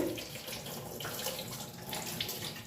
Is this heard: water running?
yes